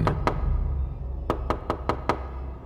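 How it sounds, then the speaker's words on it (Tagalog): Knocking on a house door at night, two raps, a pause, then a quicker run of five sharp knocks, close and clear with no talk. "Kumatok siya ng gabing yun sa bahay namin."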